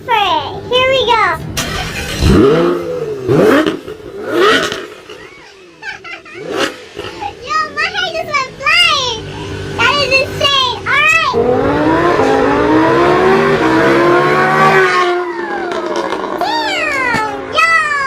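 A car engine revs loudly in repeated rising and falling bursts, then climbs into a long sustained rev near the end, with voices, including a child's, mixed in at times.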